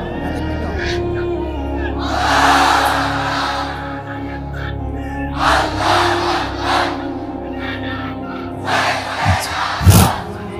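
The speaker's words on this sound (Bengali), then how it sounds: "সবাই একটা তাকবীর দেন, লিল্লাহি তাকবীর" A large gathered crowd shouts takbir back in loud collective roars, with several surging waves of voices answering a single leader who speaks between them.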